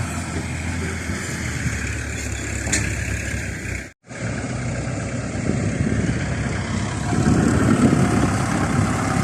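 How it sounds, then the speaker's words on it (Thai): A farm tractor engine runs steadily at idle with a low, rumbling drone, loud and close, broken by a brief dropout midway before the engine noise resumes and swells slightly toward the end. "รถไถครับ"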